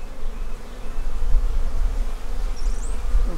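Honey bees buzz around an opened hive in a bee barn, a steady close droning hum with individual insects whirring past near the listener, no talk.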